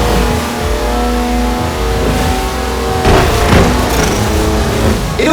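A Mercedes wagon engine in the Forza Horizon 4 racing game roars loud and close, revving and accelerating steadily with gear shifts and a surge of power midway.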